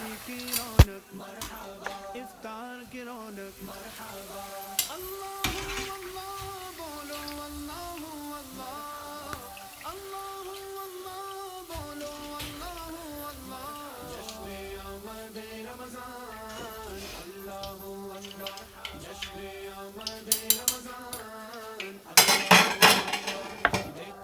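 Metal utensils clink and scrape against a pan and dishes as fried pakoras are lifted out, light ticking contacts over a steady background, building to a louder flurry of clattering near the end.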